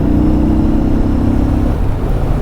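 A Yamaha Bolt motorcycle engine hums steadily and loudly while the bike is ridden through turns, giving a continuous mid-pitched drone with a slight easing toward the end.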